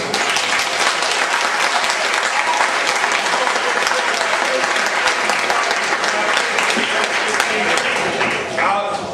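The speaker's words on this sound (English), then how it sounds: "Give him a round of applause." Loud, sustained applause from a large audience at a 2004 retirement speech, dense clapping filling the hall without a break, with some voices faintly mixed underneath.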